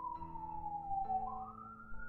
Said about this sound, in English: I'm sorry if you guys can hear sirens in the background.